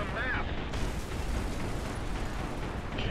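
War Thunder artillery shells landing, heard as a continuous heavy rumbling roar of distant explosions that fills the whole stretch.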